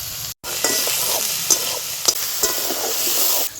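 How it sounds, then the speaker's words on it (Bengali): Onion filling with chopped ginger, garlic, green chili and salt sizzles steadily in a wok for onion kachori, with occasional scraping stir strokes, close and fairly loud throughout after a brief pause near the start. "কড়াইতে পেঁয়াজের পুর তৈরি হচ্ছে"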